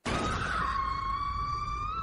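A woman's loud, sustained scream from an anime, starting abruptly and holding a long piercing tone that slowly trails on, heard alone.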